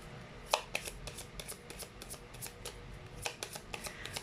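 A deck of playing cards shuffled during a tarot-style card reading, with a run of crisp riffling bursts and snaps repeating through the clip over a quiet room hum; no voices.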